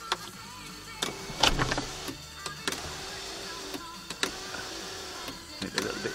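A Mercedes W210 E300 saloon's electric sunroof motor whirs in short bursts, with sharp clicks and clunks between runs, close and fairly quiet with a faint voice in the background.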